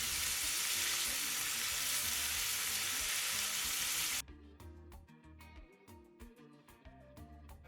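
Shrimp sizzle loudly in a hot pan for a Haitian-style sauce, a dense steady frying hiss that cuts off after about four seconds, leaving quieter clatter and scattered light clicks as they are flipped.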